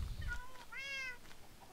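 A single drawn-out cat meow from Minecraft with a 1.5 texture pack, faint and clear against quiet background noise, with no talking.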